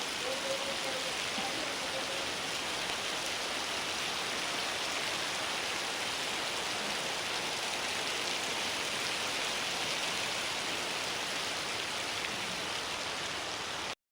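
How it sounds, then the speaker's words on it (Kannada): Dense, steady rainfall, a constant heavy hiss that continues unchanged throughout. "ನಮ್ಮ ಕಡೆ ಜೋರು ಮಳೆ ಬರ್ತಿದೆ, ಇನ್ನು ಬಿಟ್ಟಿಲ್ಲ"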